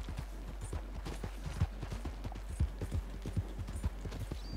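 Horse hooves clip-clopping at a steady walking rhythm in the Red Dead Redemption 2 video game, close and distinct over a low constant hum, with no talk.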